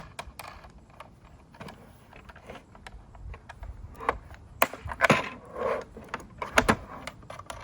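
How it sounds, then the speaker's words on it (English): Bolts are loosened on a SKIL router table's pre-assembled fence assembly, giving a run of small, close metallic clicks, taps and rattles that grow slightly louder toward the end. "Got a couple bolts here that we gotta loosen up to get it on."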